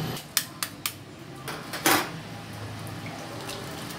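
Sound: boiled eggs lifted out and put into a basin of cold water

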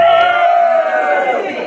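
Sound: live audience cheering

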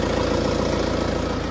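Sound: Tata Safari engine running after 100,000 km

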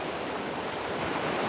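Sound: ocean waves

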